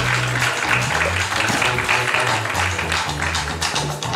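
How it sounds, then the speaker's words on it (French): Audience applause welcoming Lila Ricci onto a conference stage, steady dense clapping throughout with a low musical tone underneath. "Je vous demande d'accueillir sous vos applaudissements nourris Lila Ricci"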